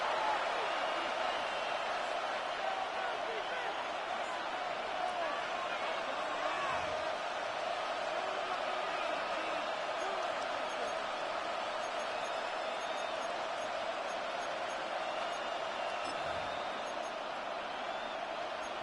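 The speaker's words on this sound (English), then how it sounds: "This crowd into it now as we get to third down." Stadium crowd at an American football game on third down, a steady, broad roar of cheering that holds at an even level throughout with no breaks.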